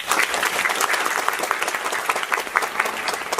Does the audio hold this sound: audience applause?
yes